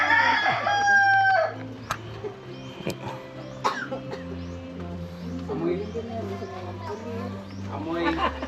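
A rooster crows loudly up close at the start, followed by people chatting over a low, steady background hum.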